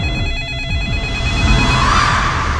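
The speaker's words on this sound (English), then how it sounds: "In every horror movie, there is a phone waiting to ring." A telephone rings in a horror movie trailer, a loud bright electronic ring over a low rumbling music bed.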